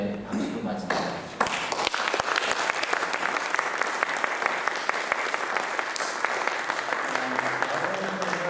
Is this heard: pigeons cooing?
no